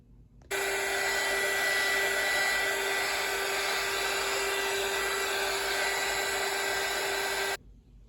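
A hair dryer runs steadily at close range for about seven seconds, drying paint on a laser-engraved coaster, with a constant whine over broadband airflow that starts and stops abruptly.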